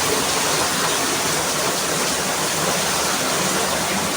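Heavy rain pours outdoors in a dense, steady hiss like a downpour hammering surfaces, continuous and loud with no breaks and no voices.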